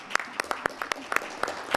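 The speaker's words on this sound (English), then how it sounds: "I just want to applaud you guys again." An audience at a library board of trustees meeting claps for a short stretch, giving a sparse, uneven patter of hand claps.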